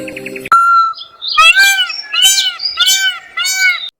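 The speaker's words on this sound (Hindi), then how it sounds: "मैना और तोता तेज आवाज में चिल्लाने लगे" A myna and a parrot in a cartoon screech loudly: a brief whistle-like tone, then four bursts of harsh, squawking calls in quick succession, close and prominent.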